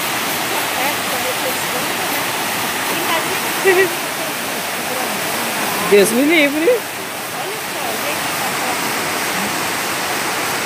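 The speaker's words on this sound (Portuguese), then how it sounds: "Vou mostrar a cachoeira." Waterfall roaring steadily as a constant broadband rush, with a couple of brief exclaiming voices cutting in over the water noise.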